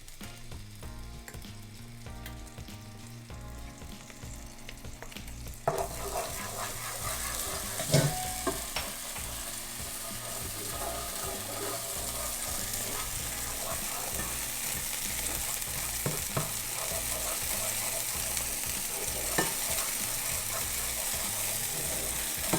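Spices sizzle and fry in hot avocado oil for meatless collard greens, a steady close crackle that grows louder and denser partway through, with occasional stirring clinks and no talking.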